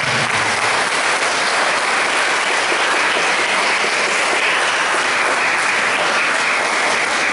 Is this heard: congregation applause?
yes